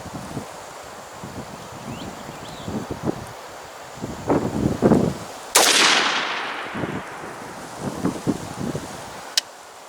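A budget-build AR rifle fires at a target outdoors. Several sharp gunshots ring out at irregular intervals, with one loud, close report that decays slowly, all over steady wind noise.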